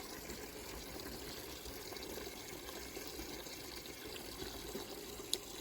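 A kitchen tap runs at a strong, steady flow into a bowl of grape seeds and pulp, a soft continuous gush of water, close and even, with a faint clink near the end.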